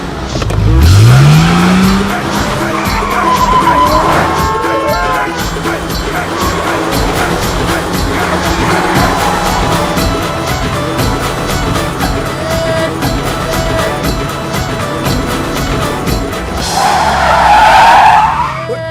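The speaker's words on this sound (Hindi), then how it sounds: "आप गाड़ी बड़ी अच्छी चलाती है।" A car is driven fast in a Bollywood horror comedy film scene, engine revving hard with loud, sustained tire squeals and skidding that swell at the start and end over a continuous roar.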